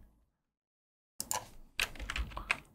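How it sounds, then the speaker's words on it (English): Several quick keystrokes on a computer keyboard after a short silence, crisp close clicks in two small bursts. "I'll just add some keyword, which is James."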